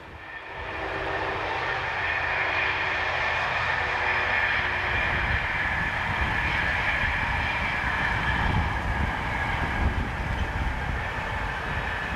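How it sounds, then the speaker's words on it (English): A GBRF class 66 diesel locomotive, number 66714, hauls a freight train from Trafford Park to Felixstowe on the West Coast Main Line, its engine drone and rolling wagons rising quickly into a loud, sustained rumble that holds steady throughout. "GBRF's 66714 has charge of the 1418 from Trafford Park to Felixstowe."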